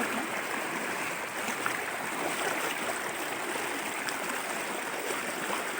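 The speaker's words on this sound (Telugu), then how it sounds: "ఇది వాగు" A flowing stream being crossed on foot pours out a steady, fairly close wash of rushing water, constant throughout with no voices.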